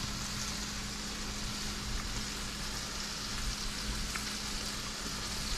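Frozen shrimp and noodles fry in a pan over medium-high heat, giving a steady, even sizzle close by and alone.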